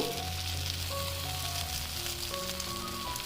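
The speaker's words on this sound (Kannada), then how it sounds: "ಮತ್ತೆ ಚೆನ್ನಾಗಿ ಫ್ರೈ ಆಗ್ಲಿಕ್ಕೆ ಬಿಡಿ" A bread and cheese omelette frying in a pan gives a steady, close sizzle with a few faint tonal hums underneath, and no one talks.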